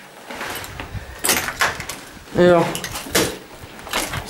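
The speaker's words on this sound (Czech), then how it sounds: "Zkusím otevřít ty dveře, ale nejdou." A stuck door in a building in Ukraine is tried but won't open, giving several separate thuds and rattling knocks spread over a few seconds, close by, with a brief spoken word.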